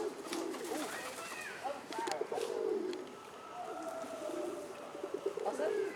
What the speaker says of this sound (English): Look at the seagull, he's like dominating over them.